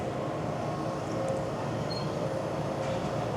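An empty subway train rumbles along the track at a steady, loud roar, with faint metallic whines drifting above the constant running noise.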